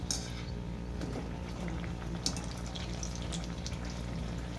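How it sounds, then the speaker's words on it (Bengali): Pea-stuffed luchi fry in hot oil in a kadai, a continuous low bubbling sizzle with scattered crackles, fairly quiet and steady with no voices. "সব লুচিগুলো আমি একই প্রকারে এইভাবে ভেজে নেব"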